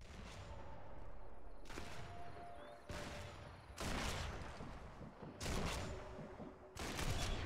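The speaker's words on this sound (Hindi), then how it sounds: "भाई बहुत गोलियां चला ली यार तूने तो" Repeated bursts of loud gunfire in the video game Sniper Elite 4 crackle at fairly regular intervals against a steady background, each volley lasting about a second.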